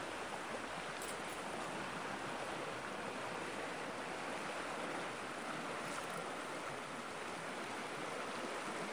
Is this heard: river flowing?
yes